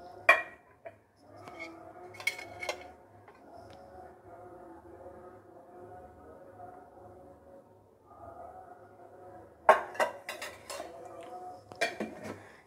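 A wok is set on a gas stove and oil poured in for frying puris, giving clattering clinks of metal pots and utensils in bursts near the start and end, with quieter handling between.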